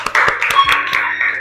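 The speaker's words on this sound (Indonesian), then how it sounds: "Sekali lagi tepuk tangan untuk kelompok" A classroom of students claps in applause for a student group, a dense burst of hand claps that starts sharply and carries on steadily at close range.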